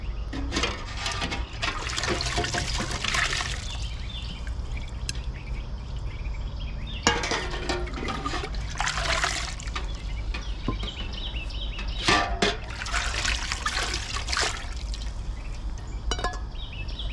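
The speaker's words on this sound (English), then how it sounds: "So I'm washing away all the dust from the summer." Oil lamps being washed under running water: splashing and trickling in bursts, with glass clinking and light drips between pours, close by, and a rooster crowing faintly in the background.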